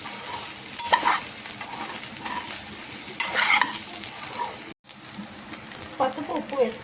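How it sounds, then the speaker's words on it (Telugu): Soybean chunks frying crisp in a little oil, a close steady sizzle with repeated stirring scrapes and rattles against the pan, a brief dropout near the end before the sizzling resumes. "ఆయిల్ తక్కువ వేస్తేనే మంచిగా క్రిస్పీగా బాగా ఫ్రై అవుతుంది."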